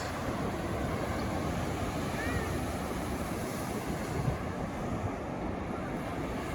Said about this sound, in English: It's a long beach.